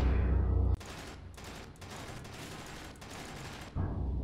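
Sustained automatic assault rifle fire in the space sandbox game Space Engineers, a dense rapid burst lasting about three seconds, loud and close, set apart from a low steady hum before and after.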